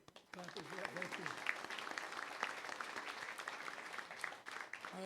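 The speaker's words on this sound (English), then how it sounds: "Could you join me in clap as well?" A crowd at a company's annual meeting claps after a national anthem performance, dense sustained applause starting just after a brief voice and holding steady to the end.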